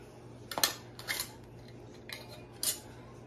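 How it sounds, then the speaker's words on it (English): Metal canning lids are set onto glass jars in a quiet kitchen: four or five sharp, close metallic clicks and clinks spaced unevenly over a few seconds, with faint handling in between. "Now we're going to put our lids on."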